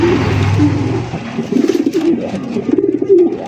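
A large racer pigeon coos close by in repeated throaty, rolling bursts, loud and clear over a low background rumble.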